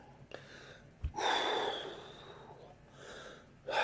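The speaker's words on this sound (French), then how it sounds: "c'est la respiration" A person living with long-term HIV, breathless and panting, takes a sharp gasping inhale followed by a long wheezy, labored breath, close and fairly quiet.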